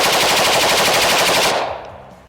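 An M16A1 grenadier rifle fires a rapid full-auto burst, loud crackling shots in quick succession for about a second and a half before cutting off into a short fading echo.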